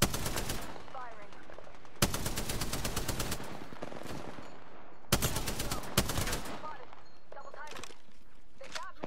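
Apex Legends game gunfire, with long bursts of rapid automatic shots loud and close alongside scattered single shots, while people talk throughout.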